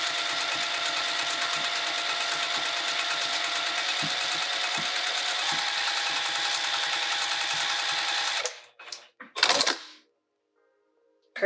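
A sewing machine stitches down a Plover pouch from a kit in a fast, steady, close-up run lasting most of the stretch, then stops abruptly, followed by a few brief handling clicks and silence.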